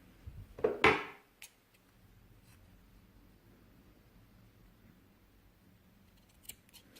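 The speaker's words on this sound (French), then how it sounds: "je viens couper mon fil" Scissors snip crochet yarn at the end of a small crocheted fish, one close sharp double cut followed by quiet rustling and a faint tap near the end.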